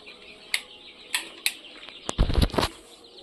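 Twenty-two-day-old quail chicks flap their wings in a few quick bursts, then give a brief flurry of calls and fluttering, faint and close.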